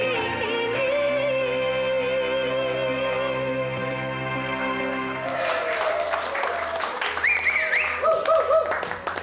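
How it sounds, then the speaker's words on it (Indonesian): At a live stage show, sustained musical tones hold for several seconds. Audience applause then breaks out, with a voice and music continuing over the clapping. "Beri tepuk tangan sekali lagi."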